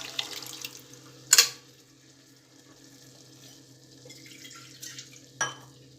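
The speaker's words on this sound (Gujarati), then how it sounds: "હવે મેં કુકરમાં જ અડધો ગ્લાસ પાણી એડ કરી અને અંદર એડ કરી દીધું." Half a glass of water added to a pressure cooker holding spiced dal for dal fry, heard as quiet trickling with a couple of sharp splashy clinks standing out against a faint background.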